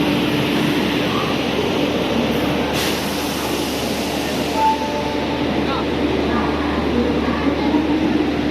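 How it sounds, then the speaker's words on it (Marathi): The Coimbatore–Mumbai Lokmanya Tilak Terminus Express, train 11014, arrives during the monsoon, led by an Ajni-based locomotive. A close, continuous heavy rumble holds steady, with a brief higher tone partway through. "इथे आपल्या गाडीचं अरायवल होते"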